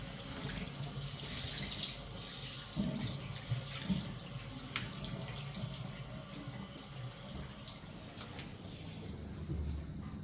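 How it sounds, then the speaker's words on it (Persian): Tap water runs steadily into a sink as a dropped toothbrush is rinsed, a close continuous splashing stream with no talk over it. "مسواکت هم افتاد باید بشورش."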